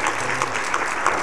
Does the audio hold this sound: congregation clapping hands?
yes